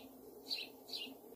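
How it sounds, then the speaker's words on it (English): House sparrow giving two short thin cheeps about half a second apart, faint and somewhat distant over a soft background hiss. "That right there is a house sparrow."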